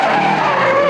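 Car tyres skid hard as the driver pulls the handbrake and spins the car around during an auto test, a loud continuous screech held for about a second.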